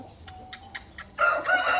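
An Aseel rooster on a farm gives a few short clucks, then breaks into a loud, close crow at the end, with no talking.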